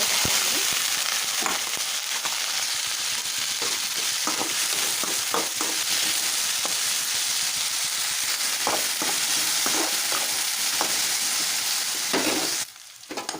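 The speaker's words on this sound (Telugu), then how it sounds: "దొండకాయలు అయితే బాగా వేగిపోయాయి" Ivy gourd (dondakaya) pieces fry with a steady loud sizzle in a pan, punctuated by scraping stirs and clinks of a spatula, cutting off abruptly near the end.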